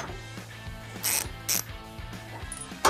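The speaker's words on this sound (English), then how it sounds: "You can now remove this bumper beam bolt with a 21mm socket." A ratchet fitted with a 21mm socket backs out a bumper beam bolt on a 2020-2024 Ford Explorer during trailer hitch installation, making steady, close clicking pawl ticks broken by a few louder metallic clacks.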